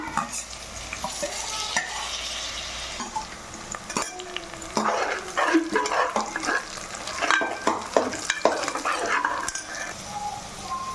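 Onion gravy frying and being stirred in a pot for chicken biryani, a constant sizzle broken by clanking spoon scrapes against the metal, close, with no talking.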